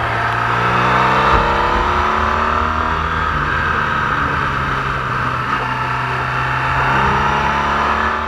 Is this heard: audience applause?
no